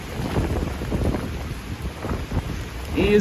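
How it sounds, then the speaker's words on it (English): Gusty wind buffets the microphone during a rainy walk through Manhattan in New York City, a continuous loud rushing roar with rain and street noise beneath it. "the wind is picking up"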